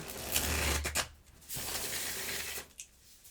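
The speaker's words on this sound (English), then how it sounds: "let me start shuffling these tarot cards here." A deck of tarot cards being shuffled by hand, two bursts of dense riffling and flapping separated by a short pause, close and clear with no voices.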